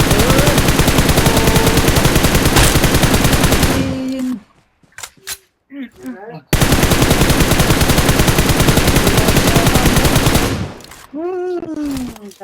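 Dense, loud automatic gunfire from the video game PUBG rattles in long sustained bursts, breaking briefly in the middle for sparse shots and voices, then resuming just as heavily before fading under a voice at the end.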